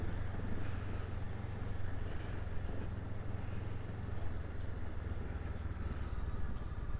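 A motorcycle engine drones and revs as the bike rides over big bumps on a slippery road, a steady low rumble mixed with wind and road noise, fairly distant in the mix.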